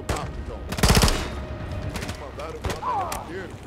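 Rapid automatic gunfire in Call of Duty: Modern Warfare 3, a loud burst of close machine-gun rattle followed by scattered shots amid battle noise, with a voice talking over it.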